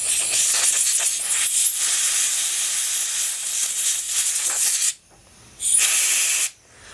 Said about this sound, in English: A little more compressed air, just to dry the brake clean up.